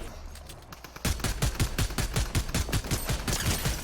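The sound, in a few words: Twin Mag AR full-auto gunfire in Fortnite video game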